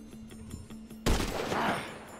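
Gunfire in GTA 5 on PS5 during a mission: a low hum gives way to one sudden, loud, close shot, followed by a sustained roar of echo and follow-up blasts.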